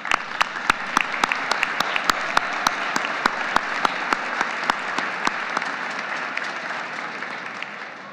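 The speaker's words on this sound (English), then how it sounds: "Let's please show them our appreciation with a quick round of applause." Crowd applause at an outdoor Capitol Christmas tree lighting ceremony, a steady dense wash of clapping with a few sharp close claps standing out, fading gradually toward the end.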